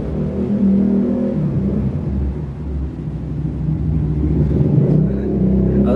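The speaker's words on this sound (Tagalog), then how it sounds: "Padaanin ko lang yung tricycle na dumaan guys." A motor tricycle engine rumbles steadily nearby, swelling slightly louder toward the end as it passes, with no voices over it.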